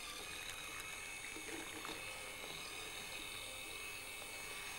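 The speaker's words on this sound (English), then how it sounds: "all you do now is you take an electric hand whisk" Electric hand whisk beating all-in-one cake batter made with very soft butter in a bowl, a steady, fairly quiet whirring that churns on without pause for the full stretch, with no voice heard.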